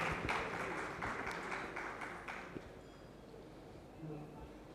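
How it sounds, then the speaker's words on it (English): Audience applause at a telecom conference session welcoming dignitaries onto the stage, a dense burst of clapping up front that thins and fades over a few seconds. "let's welcome them with a huge round of applause"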